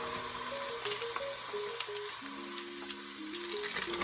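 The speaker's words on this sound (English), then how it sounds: "I'm gonna go ahead and throw the beef right in to the pot" Ground beef frying in a pot with cooked onion and garlic, a loud continuous sizzle running throughout, with soft background music under it and no talk.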